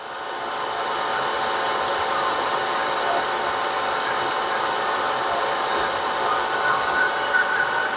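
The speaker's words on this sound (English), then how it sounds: "I want to be conventional milling" A milling machine takes a conventional milling cut on rear cylinder covers, a steady, loud broadband whir with a high tonal whine that holds unbroken throughout, with no talking.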